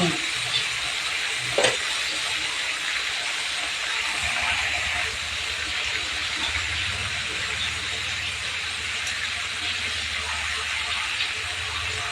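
Food frying in a pan makes a steady, fairly loud hiss throughout, with a sharp clatter early on and a low rumbling hum underneath from the middle onward.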